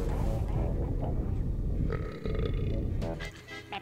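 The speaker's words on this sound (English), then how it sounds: "Was there a need for a burping sound?" A cartoonish burp from the Conker's Bad Fur Day video game, a long low guttural eructation that fills the clip loudly with game sounds layered over it.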